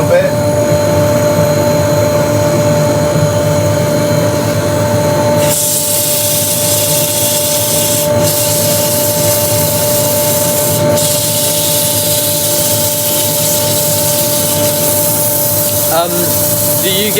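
A dust extractor roars in a loud, steady rush beside a running wood lathe, its broadband noise shifting in tone partway through and continuing without a break.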